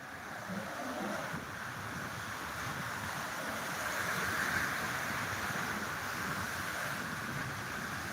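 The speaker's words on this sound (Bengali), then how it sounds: "এখন সমুদ্রের দৃশ্য আপনার তুলে ধরছি এখন অনেকটা ধীরে ধীরে জল বাড়ছে" Night sea waves wash onto Digha beach in a continuous low surf roar, steady and moderately loud, with some wind noise and no voices.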